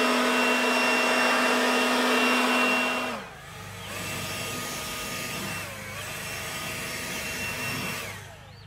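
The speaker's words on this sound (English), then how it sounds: "I also like to blow debris and things off of my front and back porch" A Wild Badger Power leaf blower runs with a loud, steady motor whine close by, dropping in pitch and then easing back up through a few speed changes, with no talking.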